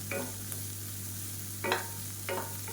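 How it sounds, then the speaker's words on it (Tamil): Chopped vegetables sautéing in a pan for ragi soup, a soft continuous sizzle broken by three short scraping stirs of a spoon, close by, under a steady low hum and with no voices. "இது எல்லாத்தையும் நல்லா வதக்கிக்கலாம்"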